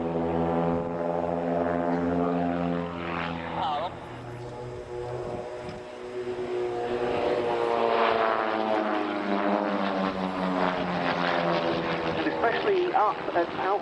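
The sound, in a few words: Vans RV kit-built propeller aircraft flying in formation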